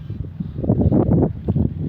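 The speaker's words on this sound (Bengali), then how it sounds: "প্রচুর হাওয়া চলতেছে।" Strong wind gusts against the microphone under a cloudy, rain-threatening sky, a loud continuous rumbling buffet that swells and dips over a couple of seconds.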